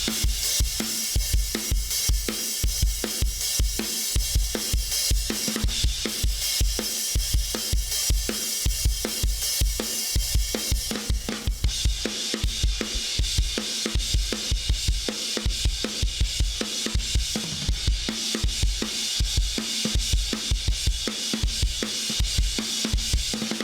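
Drum kit playing the chorus of a song with snare and crash cymbal, a steady, driving, evenly spaced beat with a continuous bright cymbal wash running for the whole stretch and no talking.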